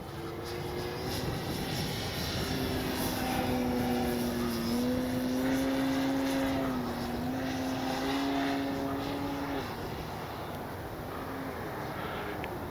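A Hangar 9 J-3 Cub 10cc radio-controlled model plane flies overhead with a steady propeller drone whose pitch rises and falls as it passes, alone with no talk, on a breezy day.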